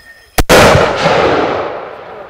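A mortar fired during army live-fire training, a sharp near blast followed by a loud roaring boom that slowly fades out.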